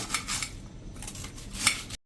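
A knife cutting through rolled dough for crispy cabbage paratha, a few quick clicking strokes against a board or plate, close by and without speech.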